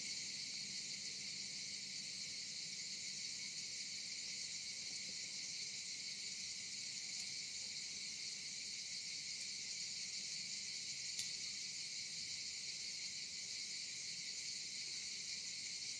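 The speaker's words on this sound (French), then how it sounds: "Le bruit des cigales, oui, profitez-en." Cicadas chirp as a continuous high, buzzing drone that holds steady throughout, faint and distant, with no voices.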